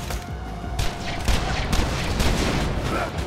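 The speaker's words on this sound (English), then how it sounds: "this gun has the exploding bullet" In the shooter game Borderlands 2, a gun loaded with exploding rounds fires sustained rapid bursts, a dense, loud crackling fusillade of blasts that keeps going throughout.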